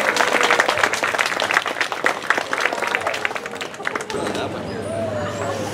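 Audience applause at an outdoor songwriters showcase at a valley festival, dense clapping for about four seconds that thins out and drops to ambient crowd noise at the end.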